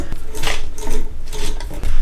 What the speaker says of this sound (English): now you want to turn the hand wheel a bunch of times